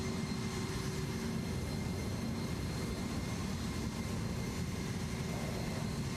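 The small plane in Microsoft Flight Simulator 2024 makes a continuous, steady engine and propeller drone with broad rushing noise that stays at a constant level throughout, with no voices.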